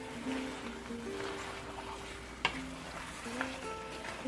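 Chicken fries in a pan and gives a soft, steady sizzle, with a sharp clink of stirring partway through. Faint tonal sounds carry on quietly in the background.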